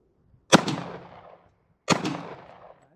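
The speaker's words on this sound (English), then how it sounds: "First time shooting this gun, so I'm pretty excited." Two loud, close gunshots from a .50 ACP gun firing full metal jacket rounds outdoors, each a sharp blast with a decaying tail, spaced about a second and a half apart.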